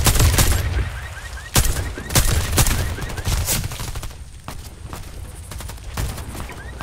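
Gunfire in the shooter game Warface: sharp, loud, close shots crack out singly and in short bursts at uneven intervals, with noisy gaps between them and no talk.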